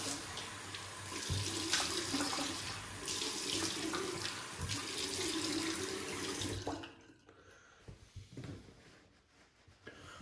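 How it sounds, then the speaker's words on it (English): Tap water runs steadily into a sink as a shaver rinses off after shaving, close and fairly loud for several seconds, then cuts off, leaving quieter dripping and small handling noises. "we're gonna rinse off and we'll get lathered up again"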